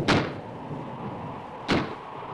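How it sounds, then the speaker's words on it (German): A door springs open somewhere in a windy old house in a horror film, heard as two sharp bangs about a second and a half apart over a low rushing background. "Irgendwo ist sicher eine Tür aufgesprungen."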